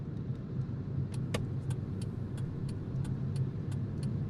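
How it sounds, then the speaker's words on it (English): A car pulls into a shaded parking area, its low engine rumble steady and close, with light regular ticking or jingling clicks above it; an audio-drama sound effect with no voices. "turned his car into the shaded parking area of the Stonehenge Western Bed and Breakfast"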